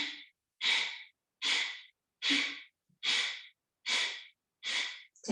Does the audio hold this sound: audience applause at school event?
no